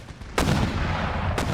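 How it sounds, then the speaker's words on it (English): Two booming shots from a mortar team in the strategy game Empire: Total War, about a second apart, each a sharp loud blast with a rolling tail over a low battlefield rumble. "Are you in range of that mortar team? You able to open fire?"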